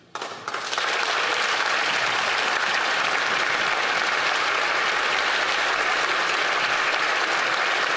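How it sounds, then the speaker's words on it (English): Sustained, loud applause fills a parliamentary chamber as members clap for the outgoing Speaker, steady and dense from start to finish with no gaps. "No, stop clapping for him."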